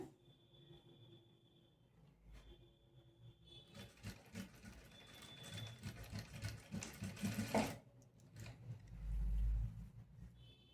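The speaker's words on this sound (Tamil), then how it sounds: "இப்போ நான் லூப் ஸ்டிச் பண்ணிக்கிறேன்" A sewing machine stitches a loop on a blouse, running in a steady, buzzing whir that builds in intensity through the middle, stops abruptly, then restarts briefly, with quiet pauses before and between runs.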